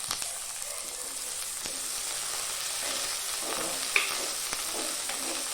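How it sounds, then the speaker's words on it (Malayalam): Chopped shallots frying in a pan for a special fish curry, a continuous close hiss and crackle with a few faint spatula taps, no talking. "ഉള്ളി ഒന്ന് നന്നായി മൂത്ത് വരണം"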